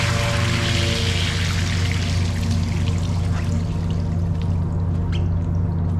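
Water pours steadily from a freshly cleared deck drain on a fishing boat under refit, a loud continuous gushing flow with dripping and trickling over a low engine-like hum, with no talking.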